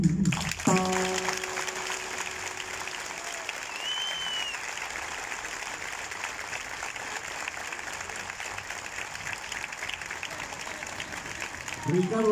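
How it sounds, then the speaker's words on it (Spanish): Sustained audience applause at a live concert performance fills nearly the whole stretch, steady and dense, with a brief spoken word or musical note at the start and a voice returning at the very end. "Muchísimas gracias por el aplauso."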